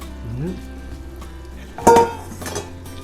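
Pork mince frying in a pan with a soft steady sizzle, broken by a sharp clatter of a utensil against the pan and a smaller clink afterward.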